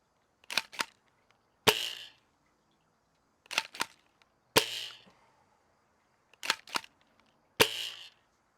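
XYL KM9 Unicorn Nerf springer blaster firing darts: sharp, snappy shots arriving in three pairs, each a quick double click of priming followed by a crisp pop, separated by silent gaps.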